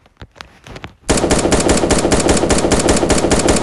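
Rapid, sustained automatic gunfire in the video game 1v1.LOL, a loud dense burst that starts abruptly after a quiet opening and runs continuously to the end.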